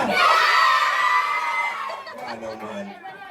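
Schoolchildren at a high school career day cheer and shout loudly together as a crowd, a bright burst of excited voices that gradually thins out into scattered chatter.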